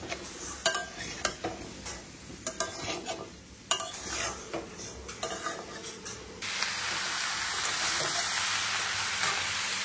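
Jackfruit stir-fried in a pan for a Bengali dish, with rhythmic scraping strokes of a spatula over sizzling oil, then a louder, steady hiss of frying for the last few seconds; close, with no talking.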